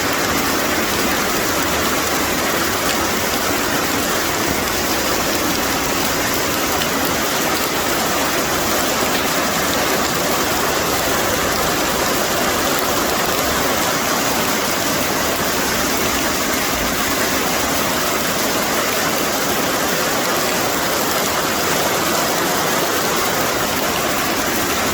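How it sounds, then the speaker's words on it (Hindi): A waterfall in misty hill country roars as a dense, continuous rush of falling water, loud and close, steady throughout with no voices. "देखो, इस झरने को ढूंढते रहे, मिल के नहीं दिया।"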